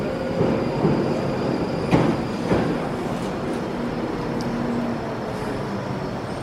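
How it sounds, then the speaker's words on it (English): A London Underground train arrives at a station, a steady low rumble and hiss of the approaching carriages with a few sharp clanks and squeals, fairly loud and continuous with no talking. "Is that a train? Yep, that's it."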